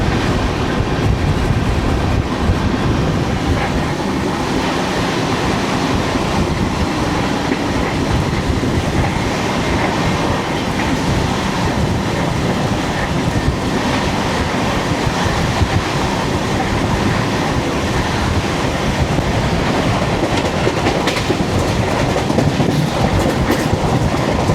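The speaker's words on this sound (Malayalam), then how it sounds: "ആദ്യം താമസിച്ചാൽ നമ്മൾ കോയമ്പത്തൂർക്കുള്ള വന്ദേ ഭാരതിനെ ക്രോസ് ചെയ്യും." Express train 16332 runs along the line between Thrissur and Yelahanka, giving a loud, steady rumble of wheels and carriages that continues throughout the whole stretch with no voices.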